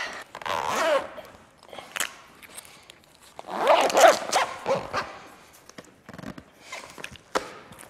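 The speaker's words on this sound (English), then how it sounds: "just to get the zipper started" A zipper on a Bestop Supertop NX soft top side window of a 2010 two-door Jeep Wrangler is drawn in several short, scratchy pulls with pauses between them, close and fairly loud, with no one speaking.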